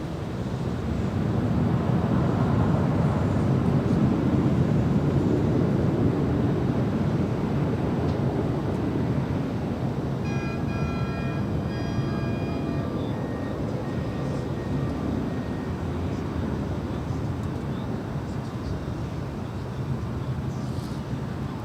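A Delta Boeing 737 landing at LAX gives off a broad, steady jet roar that rises early and then holds as a continuous rumble with some wind noise, heard from a distance.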